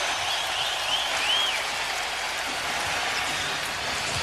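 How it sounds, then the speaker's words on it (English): Basketball arena crowd at a 2004 Pistons vs Pacers playoff game, producing a steady, dense roar of cheering and noise that holds at one level throughout, with occasional faint whistles above it. "now he's asking the crowd for more noise as he walked to the bench"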